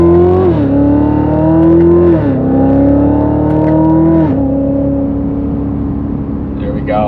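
A Chevrolet Corvette C7 6.2L with a 3-inch MBRP Active Profile axle-back quad-tip exhaust pulls hard, its close, loud engine note climbing through rising sweeps with brief dips at shifts.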